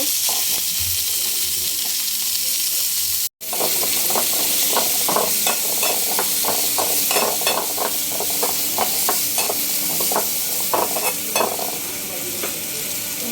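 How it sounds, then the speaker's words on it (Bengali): Onion and green chillies fry in a pan, a loud continuous sizzle with a steady run of stirring scrapes through most of the stretch, broken once by a brief dropout early on. "পেঁয়াজ কাঁচামরিচ একটু হালকা করে ভেজে নিব।"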